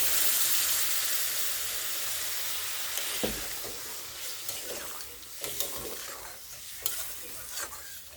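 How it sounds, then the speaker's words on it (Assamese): Water poured into a hot pan of frying chicken for a curry sets off a steady hissing sizzle, followed by scraping stirs and small clanks of the utensil against the pan, close up. "আৰু এতিয়া মই পানী এড কৰিলোঁ"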